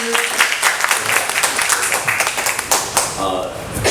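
An audience claps in thanks for Pastor Luo at a church gathering: dense, steady applause runs through the whole stretch, with some voices mixed in among the hands.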